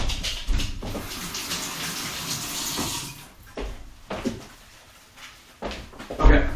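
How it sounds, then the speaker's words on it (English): A kitchen tap runs for a handwashing, water splashing and gushing in uneven bursts with short pauses and soft knocks, fairly close and without speech. "Now I gotta wash my hands."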